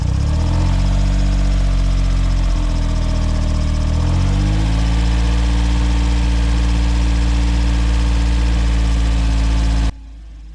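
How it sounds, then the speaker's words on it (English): A Suzuki Cara engine with a failed head gasket after overheating runs loud and close, its pitch rising briefly early on, then settling into a steady drone before cutting off abruptly. "I'm gonna rev up the engine a little bit."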